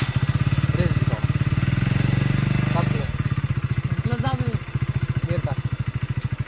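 Motorcycle engine idling and revving at close range, with a steady low throb that swells in repeated surges while people talk over it.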